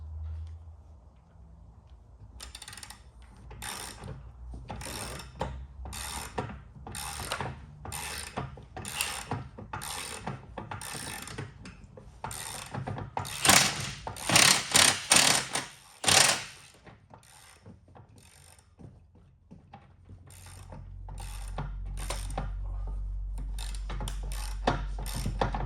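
A ratchet wrench or power tool tightens a bolt on the front suspension of a Dodge Super Bee during a front-end build with QA1 suspension. The rapid clicking and ratcheting bursts come in repeated close runs, followed by a low rumble near the end.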